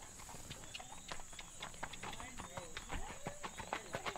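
Hooves of a horse moving at a gait on loose reins during riding training, a steady run of clip-clop beats close by, with a rider's voice talking over them.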